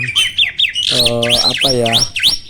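An Asian pied starling (jalak suren) gives loud, close, harsh squawks and nasal calls in quick repeated bursts, with no speech.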